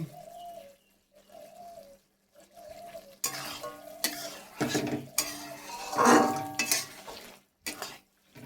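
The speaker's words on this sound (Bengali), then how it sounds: "এবার নেড়ে চেড়ে নামিয়ে দেবো।" Cooked food is stirred in a pan just as it comes off the heat: quiet at first, then several seconds of loud, repeated scraping and clattering of the spoon against the pan, with no talking.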